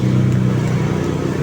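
A motorized tricycle's engine runs loud and steady, a low mid-pitched idle with a slight rising rev that carries through the whole short stretch with no talk over it.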